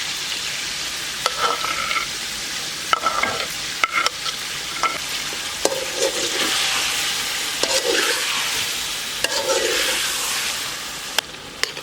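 Chopped onions sizzling in a frying pan for Peshawari dum pukht, a loud continuous hiss with repeated clanks and scrapes of a stirring spoon against the pan, close up and without speech.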